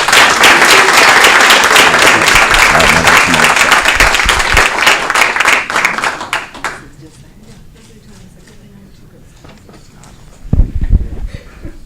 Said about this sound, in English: Let's give Nick a round of applause.